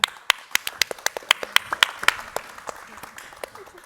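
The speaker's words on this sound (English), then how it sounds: "Please give them a round of applause." Applause from a modest audience at an info session for panel members, sparse, distinct handclaps at first that thin out over a few seconds, close and dry.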